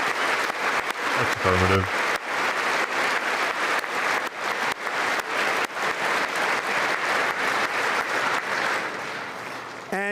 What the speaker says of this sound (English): One more clap for the road.